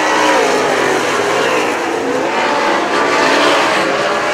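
Sprint cars race on a dirt track in a sustained, loud, roaring engine wash that swells and fades slightly as the cars pass, with no talk.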